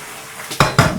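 A metal pot lid comes off a wok of chicken and pumpkin simmering in sauce, now over high heat, giving two sharp, ringing clanks close by after a quiet start.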